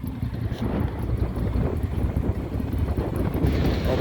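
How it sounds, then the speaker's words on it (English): Wind gusting outdoors, buffeting the microphone in a loud, steady roar with low rumbling throughout and no voices. "It's a little windy out here."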